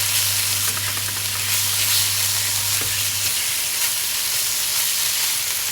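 Ginger paste frying and being stirred in a pan for lamb paya (lamb trotters) curry, a steady close sizzle with scraping stir strokes and a low hum that stops partway through.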